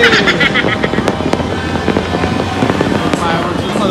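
New Year fireworks popping and crackling in rapid, uneven bursts at a loud, busy outdoor reunion, with people talking over the blasts.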